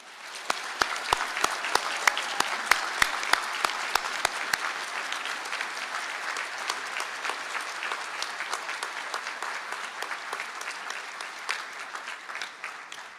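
Sustained audience applause for Sport and Exercise Science honours graduates at a university conferring ceremony in Galway, a dense steady clapping from a large crowd with a few sharp individual claps standing out early on, continuing the whole time without talk.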